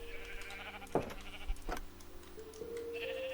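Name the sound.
Minecraft sheep bleating on farm, from a video game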